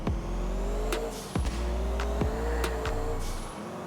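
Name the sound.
modded Comet car driving in video game GTA IV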